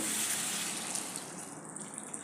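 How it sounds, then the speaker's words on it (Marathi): Hot water is poured into a pan of spicy soybean masala, a brief soft rushing gush of liquid heard alone and fairly quiet. "थोडं गरम पाणी घालून घ्यायचं"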